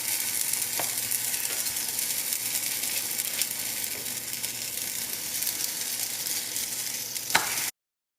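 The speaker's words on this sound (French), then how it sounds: "Donc là, j'ai une poêle en fonte, chaude. Je vais, de la même façon, en faire cuire plusieurs à la fois." Moroccan msemmen flatbreads fry in a hot cast-iron pan with a steady, close sizzle throughout. A few sharp clicks break through the sizzle, and no one speaks.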